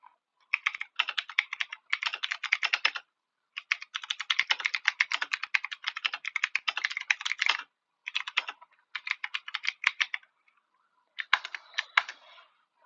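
Fingers type on a computer keyboard in quick clattering bursts, close and crisp, separated by short pauses, while filling in a Kanban card.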